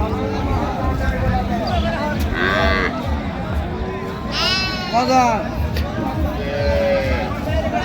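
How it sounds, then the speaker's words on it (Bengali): At a cattle market, a cow and calf moo a few times, drawn-out calls rising over busy crowd chatter and nearby talking, with one louder, closer moo near the middle. "গাভী বাছুর বেশ সুন্দর কোয়ালিটির।"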